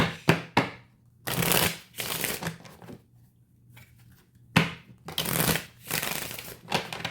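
A deck of tarot cards is shuffled in several separate bursts of riffling and sliding, close and fairly loud, with quiet pauses between the bursts.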